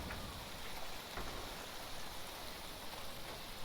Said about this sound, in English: Alright, all kinds of waterfalls.